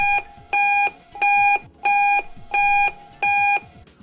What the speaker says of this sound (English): there's an internal speaker that confirms connection of each component in that speaker